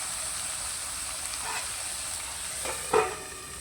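Vegetables sizzle softly in a wok with a low, continuous frying hiss, broken near the end by a couple of louder stirring scrapes.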